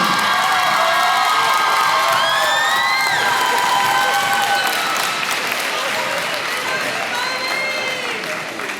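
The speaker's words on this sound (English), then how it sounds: "Ladies and gentlemen, please, one more round of applause for Coach Bobby Wright." A crowd honoring Coach Bobby Wright claps loudly and steadily, with whoops and high cheering voices rising above the applause throughout.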